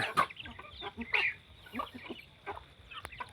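Chickens clucking in short, irregular bursts, fairly close, with scattered calls over a quiet background.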